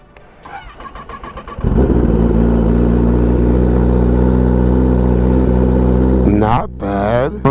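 A Kawasaki Ninja ZX-10R KRT Edition sport motorcycle with an M4 slip-on exhaust cold-starts after a few clicks, then settles into a loud, steady high idle, with brief talk near the end.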